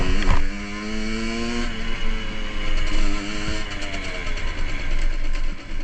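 Motorcycle engine running during a ride home, a loud steady idle with shifting revs and a rising whine, mechanical clunks, no talk.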